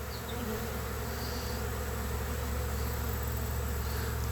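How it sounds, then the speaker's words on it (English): A swarm of honey bees hums in a dense, continuous buzz, close and steady throughout, with individual bees droning past over the constant drone. "catching swarms when they're in the air is the bees light"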